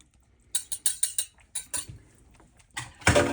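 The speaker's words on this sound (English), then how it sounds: "I'm going to add an egg. I'm going to beat the egg up" An egg beaten in a bowl, a quick run of sharp rhythmic clinks and taps of utensil on bowl, close, followed by a brief louder scrape.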